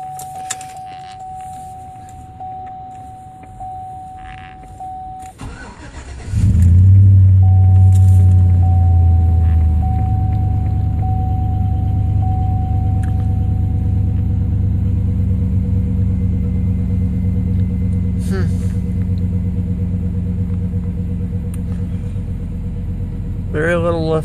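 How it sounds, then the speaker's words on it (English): A 2004 Chevrolet Silverado 1500 pickup cranks and fires on a cold start with a loud surge, then settles into a steady low idle rumble; a chime sounds before the start and a person talks briefly. "We'll do a cold start of this 2004 Silverado C71."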